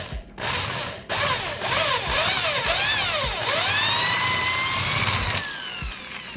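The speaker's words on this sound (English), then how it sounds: "Swap your drill bit out for the slightly larger 3/16 that I mentioned before." A power drill with a 3/16 bit enlarging a rivet hole in a vent window bracket on a 73-87 Chevy/GMC truck, close and loud, its motor whining up and down in pitch through several short bursts.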